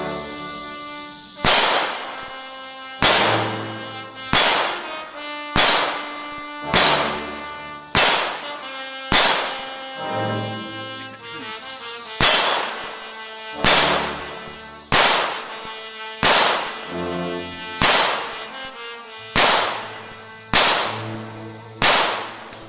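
A CZ vz.50 / vz.70 pistol fires a steady string of about fifteen sharp shots at steel targets, each crack followed by a ringing metallic ping and a brief decay, spaced roughly a second or two apart outdoors.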